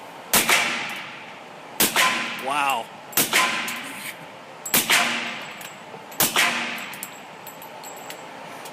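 Suppressed firearm shots at a range come in five sharp, evenly spaced cracks, each paired with a ringing metallic clang of the bullet striking the backstop; a person briefly exclaims between shots.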